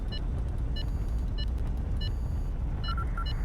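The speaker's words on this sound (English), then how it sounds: "there's the alarm getting raised now" Alarm being raised in Highfleet, repeated short electronic beeps pulsing over a heavy low engine rumble, with a quick double tone near the end.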